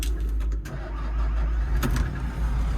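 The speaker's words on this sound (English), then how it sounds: "So all we need to do now is turn the engine over" A car engine turns over with a steady, loud low rumble that continues throughout, with a couple of brief sharper bursts. It has just been worked on, with bolts refitted and the fan belt in place.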